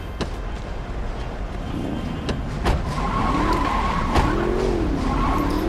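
A car in the video game Saints Row 2 driving with a steady engine drone, then skidding with wavering tire squeals that rise and fall over the continuous engine noise, plus a few sharp clicks.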